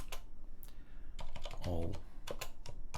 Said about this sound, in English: I need to type everything.